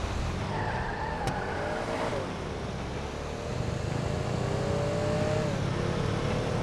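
Tow truck speeding and skidding in Grand Theft Auto V on PC, a steady engine roar with rising and falling pitch, tire squeal and a brief sharp crack, continuous and fairly loud throughout, with voices talking over it.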